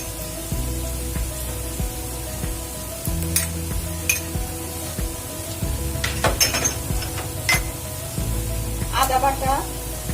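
Onions sizzling in hot oil with garlic paste as a masala cooks in a pan, a steady fry under scraping and stirring clinks of a utensil against metal, with some background voice.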